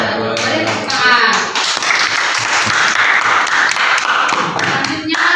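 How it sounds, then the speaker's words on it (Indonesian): Applause from a classroom full of people after a group presentation, loud and continuous with dense clapping and a few taps and thumps throughout, up close and filling the room. "Beri tepuk tangan."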